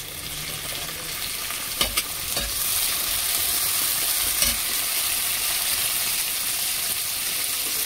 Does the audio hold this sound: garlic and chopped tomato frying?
yes